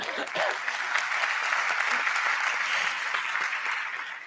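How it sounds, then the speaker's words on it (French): Audience applause for Élodie Lhermitte at a public event, a dense, sustained burst of clapping from a crowd lasting several seconds before fading. "Je peux l'applaudir."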